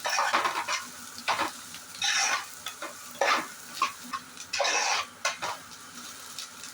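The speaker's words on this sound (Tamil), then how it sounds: "கேரட்டு கொஞ்சம் நல்லா வதங்கணும், நல்லா வதக்கிக்கலாம்" Carrots sizzle in a hot pan with ginger and garlic, punctuated by repeated scraping and stirring strokes of a spatula in irregular bursts, close and moderately loud.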